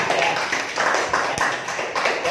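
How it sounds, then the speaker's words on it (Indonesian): A classroom of students clapping for a group that has just presented, close, uneven bursts of hand claps in a quick ragged rhythm. "beri tepuk tangan dulu untuk kelompok pertama ya"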